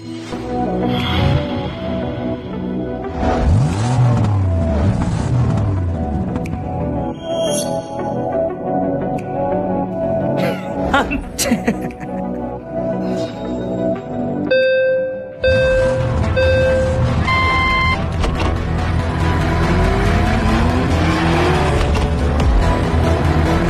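Racing cars and a taxi competing in a race, with engines revving, whooshing passes and tire squeals shifting through a busy, layered mix of effects and tones.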